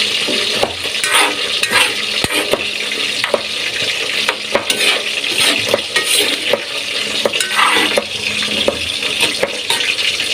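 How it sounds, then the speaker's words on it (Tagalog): A savoury dish is stirred with a ladle in a frying pan, with a busy, continuous sizzle broken by frequent scraping and clacking of the spoon against the metal. "haluin natin to"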